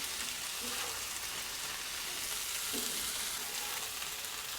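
Fajita chicken sizzles on a Blackstone griddle, a dense, even hiss like steady rain with a couple of faint thuds from turning the meat, and no talking.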